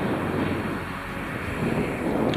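Strong, chilly wind buffets the microphone outdoors, a dense, gusty roar with low rumbling that persists throughout.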